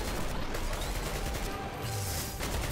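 Rapid automatic AK rifle fire in the video game Garry's Mod, styled as Ultrakill, sounds as a dense continuous burst mixed with loud game effects, sustained and harsh throughout, with no talking.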